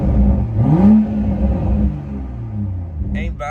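A Toyota Supra MK5 engine revs up in a rising surge, then settles to a rumbling idle close by, with a brief voice near the end.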